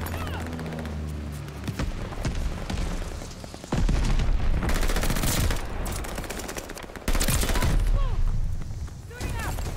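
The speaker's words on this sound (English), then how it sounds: "Friendly bombing run inbound." Loud sustained machine-gun fire and booming explosions from a friendly bombing run in a video game pound in dense waves, with a voice talking over the battle.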